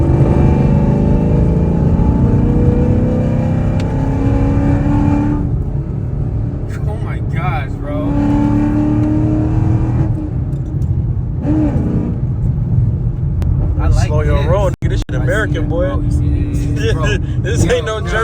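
A 2019 Chevrolet Camaro SS with Texas Speed headers, catless X-pipe exhaust revs loudly and close by, deep rumbling bursts rising and falling, with people talking over it.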